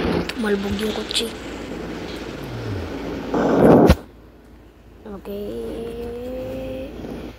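A car in a video game revs and drones with tire scraping and a loud crunching burst of noise, then a quieter engine whine that rises again, shifting pitch as it drives.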